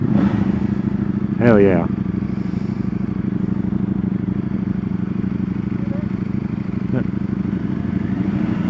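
A Triumph motorcycle roars steadily at speed through the whole stretch, with a rider's brief excited shout over the engine and wind.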